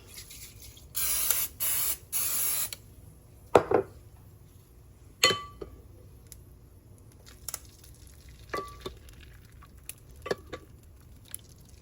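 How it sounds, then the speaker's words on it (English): Several quick spritzes from a spray bottle, a cluster of hissy bursts early on, followed by sparse clicks and handling noises in a quiet room. "let's spray it first"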